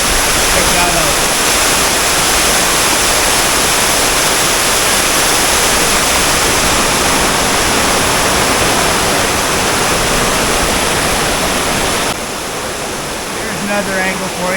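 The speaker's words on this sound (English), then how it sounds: "the conditions are almost perfect for the flow of water" Loud, constant rush of flowing water, a dense roaring hiss close by that barely changes, dropping slightly near the end.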